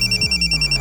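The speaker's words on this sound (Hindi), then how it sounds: "सर नागपुर से शकील का फोन है।" A telephone rings with a steady electronic trill, pulsing in short regular bursts, close and clear for under a second.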